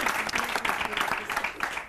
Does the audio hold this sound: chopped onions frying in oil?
no